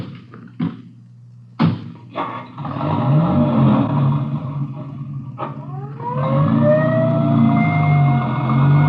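In an old radio drama, a couple of thumps lead into a vehicle engine, and then an ambulance siren rises and wails loudly, continuing to the end.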